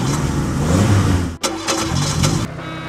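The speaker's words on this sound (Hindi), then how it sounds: "मैकेनिक वैसे ही करता है और उसकी गाड़ी के साइलेंसर से बहुत तेज आवाज निकलती है।" A cartoon motorbike fitted with a giant silencer roars loudly and steadily, a dense engine rumble that dips briefly, surges again, then drops a little toward the end.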